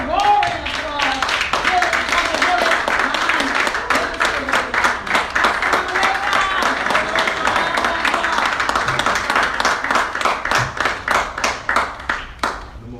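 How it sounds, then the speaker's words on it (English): A crowd at a religious speech honoring Minister Louis Farrakhan breaks into loud, sustained applause with sharp, rhythmic clapping close by, while voices call out over it and the clapping thins near the end. "With a roaring applause"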